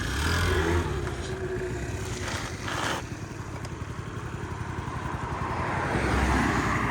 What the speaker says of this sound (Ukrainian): З кнопочки заводиться все без ніяких питань. Зробимо невеличкий драйв.